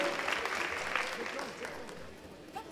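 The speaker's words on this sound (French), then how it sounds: "quelques applaudissements, quelques encouragements pour la jambe féminine" Scattered applause and a few encouraging shouts from spectators at a women's boxing bout in a ring, moderately loud and steady at first, thinning slightly toward the end, with some voices mixed in.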